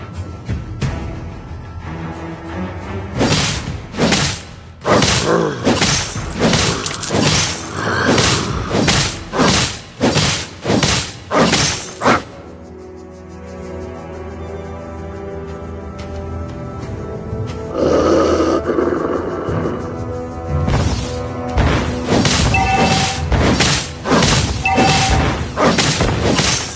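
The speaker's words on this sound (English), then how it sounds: "You destroyed a turret." Turret destruction in the game Mobile Legends, a run of loud booming thuds and impacts in quick succession, a brief quieter lull, then more heavy explosive hits.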